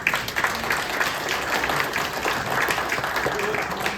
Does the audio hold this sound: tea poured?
no